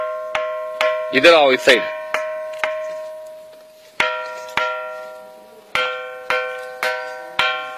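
At the Mahakali temple in Ahmedabad, a stone is struck repeatedly and rings like a bell, sharp metallic strikes with sustained ringing tones at a steady rhythm, while a voice speaks briefly in the middle.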